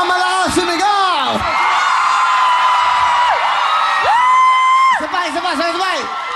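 A crowd shouting and whooping loudly at a live event alongside music, with rising and falling cheers that fill most of the clip.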